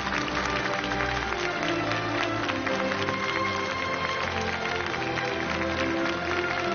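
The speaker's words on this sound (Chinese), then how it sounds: "让我们掌声有请" An audience at a 2014 Brilliance of China award ceremony applauds, a dense, steady wash of clapping that holds at an even level from start to finish with no talk over it.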